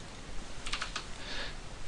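Keystrokes tap on a computer keyboard to enter a value, a short quick burst of clicks followed by a softer brief patter, faint and close over quiet room tone.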